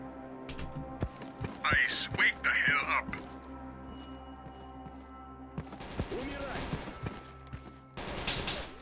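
Enemy gunfire in STALKER: Call of Pripyat, scattered sharp shots and short bursts cracking at a distance, mixed with game sounds and someone talking over parts of it.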